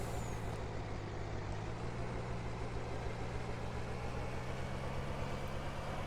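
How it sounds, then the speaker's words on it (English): Heavy truck in Farming Simulator 19 idling with a steady, loud, constant engine drone throughout, no pauses or distinct air brake bursts standing out. "I'm going to hop back in the truck"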